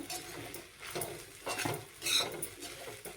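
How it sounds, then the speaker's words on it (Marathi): A spoon stirs sabudana khichdi with freshly chopped coriander in a metal pan, giving several scraping, clinking strokes in an uneven rhythm, close and fairly quiet with no talk. "आता आपण थोडीशी बारीक चिरलेली कोथिंबीर घालूया आणि परत एकदा परतून घेऊया"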